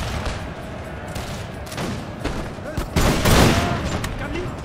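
Musket volleys crackle in the video game Empire: Total War, a dense, continuous battle din with a louder burst of fire near the end.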